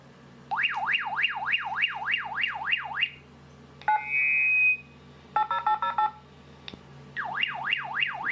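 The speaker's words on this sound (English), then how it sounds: "let's try the alarm." A Baofeng UV-5R radio transmits its alarm, heard through a toy walkie-talkie: a rapid rising-and-falling siren warble, then a steady tone, a burst of beeping tones, and the warble again, loud and close with no voices.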